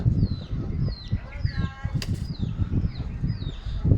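A pigeon beats its wings in flight, a run of soft, rapid flutters repeating close by, with faint bird chirps and a brief sharp burst midway.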